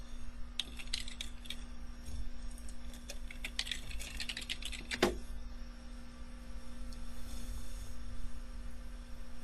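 Typing a terminal command on a computer keyboard on a Linux system, a quick run of key clicks, a short pause, then a final sharper strike, close and clear over a steady electrical hum with no voices.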